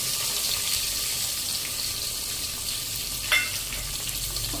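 Mint and onion hit hot oil in a home pan for egg biryani, setting off a steady, loud sizzle with a brief clatter partway through, close and continuous with no talking.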